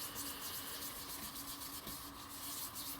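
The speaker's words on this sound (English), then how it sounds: "just go ahead and go over the surface of the card" A blending ink tool is rubbed over the surface of a card while making a background, giving a faint, steady scrubbing and brushing texture up close with no voices.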